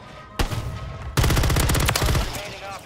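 Rapid bursts of automatic gunfire from a multiplayer shooter video game, loud and close, starting with a short volley and then a longer sustained barrage that tapers off at the end.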